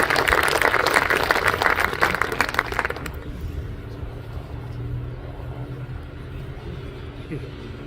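Outdoor audience applause at the ribbon cutting of the Greater Lima Region Park and Amphitheater, dense clapping for about three seconds that then stops, leaving low rumbling ambience.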